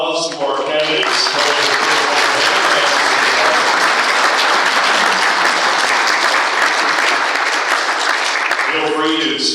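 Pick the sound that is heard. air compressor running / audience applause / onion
audience applause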